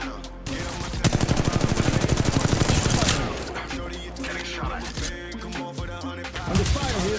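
Rapid gunfire from an Apex Legends Mobile match, dense bursts of automatic shots rattling almost continuously, loudest in the first three seconds and then continuing in scattered volleys with other game sounds.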